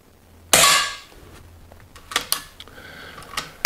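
One sharp, loud crack of a Weihrauch HW100 S air rifle shot firing lead-free pellets, with a short ringing tail, followed by a few faint mechanical clicks.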